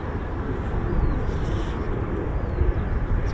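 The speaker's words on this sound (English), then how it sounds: "So a good start to the morning with a Mc-130J." A Lockheed MC-130J Commando II aircraft flies over at an RAF airbase, its steady, broadband engine roar fairly distant and continuous, swelling slightly in places, with no talk.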